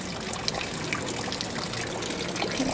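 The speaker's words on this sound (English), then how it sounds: "these are considered sacred fountains" Close, continuous trickle and patter of water running from a sacred fountain, a busy liquid splashing with no talk over it.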